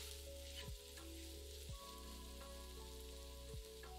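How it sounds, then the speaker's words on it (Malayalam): Spices such as Kashmiri chili, fennel, garam masala and turmeric sizzle in hot oil for an egg korma, a steady close frying hiss with a few soft stirring scrapes. "ഇത്രയും ഇട്ട് മസാലയുടെ പച്ചമണം മാറാൻ 1 മിനിറ്റ് വഴറ്റുക"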